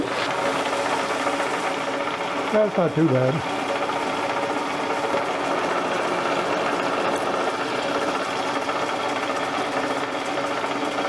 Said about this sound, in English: the gears on my lathe are very noisy